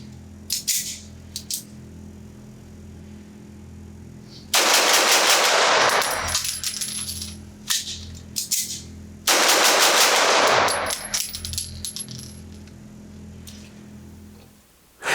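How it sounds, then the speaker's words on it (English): A Sig Sauer P226 Pro-Cut pistol fired in two fast bursts of roughly five shots each, loud sharp cracks with a pause between strings, followed by faint metallic handling noises. "So I'm gonna load up 2 magazines with about 5 rounds each and just see how fast I can do this."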